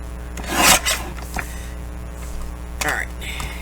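A 6 by 9 inch paper envelope cut in half, with a short rasping cut and paper rustle early on, then another brief scrape later, near and moderately loud under a low steady hum.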